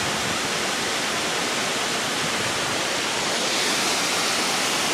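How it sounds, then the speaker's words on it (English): Waterfall near Valdez, Alaska, heard as a loud, continuous roar of falling water that fills the whole clip without letup. "Waterfall, so amazing."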